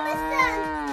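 A cow gives one short, close, wavering moo lasting about a second, with no other sounds around it.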